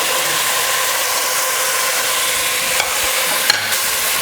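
Cut vegetables and tomato sizzle steadily in a hot pan with asafoetida, with a couple of sharp scrapes from a spoon stirring them.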